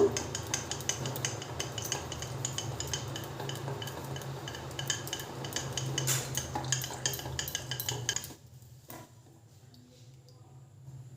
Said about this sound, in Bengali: এই ডালের কাঁটাটা দিয়ে আমি একটু ঘেটে নেব দুধটাকে।